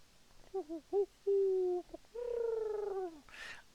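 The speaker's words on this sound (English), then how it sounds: "he makes sort of a cooing and then like an owl sound" A series of soft, hollow cooing calls gives way to a longer, falling owl-like hoot, close and clear against a quiet background with no talk.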